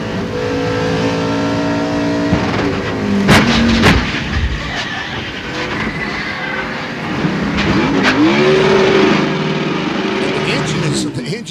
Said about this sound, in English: The engine is revving, sitting down there, the throttle home.